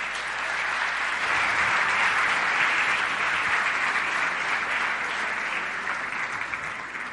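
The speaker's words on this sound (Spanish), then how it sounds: "si usted le da una bienvenida, un aplauso a ella" Church congregation applauding to welcome the preacher's wife, a steady, dense clapping from a room full of people that holds for several seconds, loud and close, with no talk over it.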